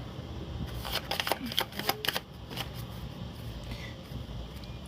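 Oracle cards are shuffled by hand in a quick run of soft riffling bursts up close, then a brief pause and a few lighter shuffles against a faint room background.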